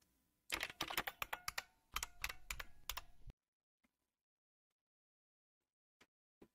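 An administrator password is typed on a computer keyboard, heard as two quick bursts of crisp, close keystrokes, then near silence with a few isolated clicks.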